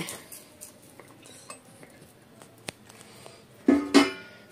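Spoon scraping and clinking against a pan while mango pickle is stirred, sparse light taps building to a couple of louder metallic clanks near the end, no talk.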